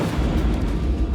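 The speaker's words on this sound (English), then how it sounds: "Big noise, big explosion." A demolition explosion set off at two tower blocks, heard as a loud, sustained low-frequency boom and rumble that fills the short moment, with no voices.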